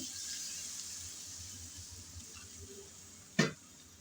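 Water poured into a pan of sautéed potatoes and previously fried shrimp gives a steady soft hiss and sizzle, closing with one sharp, louder splash-burst near the end.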